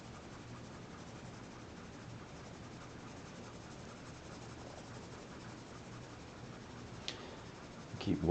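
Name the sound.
graphite pencil drawing on paper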